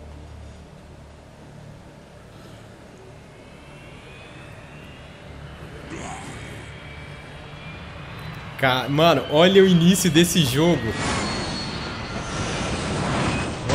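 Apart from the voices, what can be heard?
airplane engine in the Dead Rising 3 video game intro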